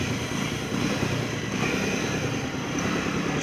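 A motorcycle engine runs continuously on a trip through Jammu and Kashmir, a steady, moderately loud drone with wind-like rush and no voices.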